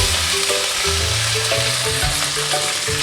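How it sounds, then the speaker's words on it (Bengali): Mustard seeds and curry leaves crackle and sizzle steadily in hot oil, a close, continuous frying hiss with faint popping and a low hum underneath. "একটু সর্ষে ফোড়ন দিয়ে একটু কারি পাতা দিয়ে দিলাম।"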